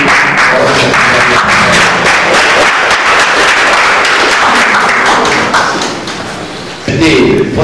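An audience at an NGO general assembly applauds loudly during an acclamation vote, dense, close clapping with thumps that runs steadily, dips briefly near the end, then surges again.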